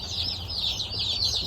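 A crowd of baby chicks in a brooder peep continuously in a dense, high-pitched chorus heard up close, with no talking.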